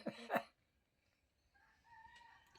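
A rooster tied up outside crows, with one loud, close call at the start, then silence, then a fainter, more distant tonal call trailing off toward the end.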